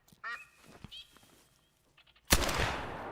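A single sharp, loud rifle crack bursts out and rings with a decaying echo after quiet calls and faint sounds in theHunter: Call of the Wild hunting game.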